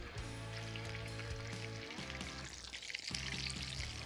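Chicken patties shallow fry in deep hot oil for a KFC-style cheese chicken, giving a steady close sizzle and bubbling crackle with a hum of kitchen equipment underneath.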